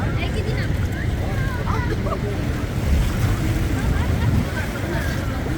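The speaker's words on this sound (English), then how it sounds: "And the waterfall again." Rhine Falls waterfall in Switzerland roars as a steady, dense broadband wash of rushing water, continuous and loud with wind buffeting the microphone throughout and no clear voices.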